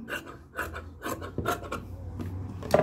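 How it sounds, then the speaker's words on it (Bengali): Scissors snipping away excess fabric around a stitched kameez neckline, a series of short crisp cuts about every half second, close and fairly quiet, with no talking. "এবার বাড়তি কাপড়টা কেটে ফেলেন"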